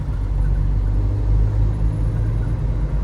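A heavy haul Peterbilt truck drives along with a steady, loud low engine rumble and road drone heard from inside, continuous and without speech.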